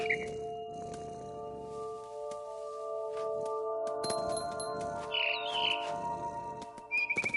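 Video game mother bird in What Remains of Edith Finch, heard as bright, brief chirps over a steady, sustained musical drone, with a few sparkling, glassy accents toward the end.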